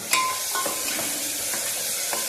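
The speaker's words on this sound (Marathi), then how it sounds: "हे छान तेलामध्ये होऊ द्यायचं आहे।" Ginger garlic paste and mutton masala paste fry in oil, giving a loud, close, continuous sizzle with faint stirring scrapes and no talking.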